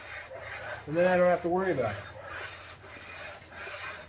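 A sanding block rubs across an engine's sealing surface on a junkyard 351 Windsor during a budget turbo build, giving a steady close scraping rasp that runs under brief talk.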